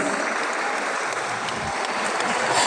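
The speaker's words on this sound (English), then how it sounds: "A round of applause," Dense, continuous audience applause after a sports tournament awards announcement at a coaches' refresher course, an even wash of many hands clapping at steady loudness.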